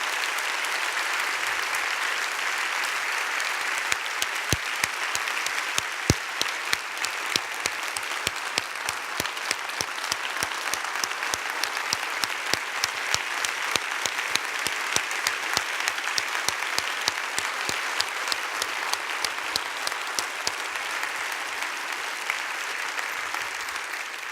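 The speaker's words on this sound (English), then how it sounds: "our dear friend and colleague, Prim Paul, a huge round of applause for everything he has done for our campus." Sustained audience applause at a university State of the University address, a dense, even patter of many hands clapping steadily throughout at moderate distance.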